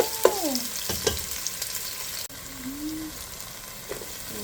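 Frozen garlic sizzles and crackles loudly in hot oil as it fries, with a few sharp scraping and clattering stirs near the start and a steady hiss underneath.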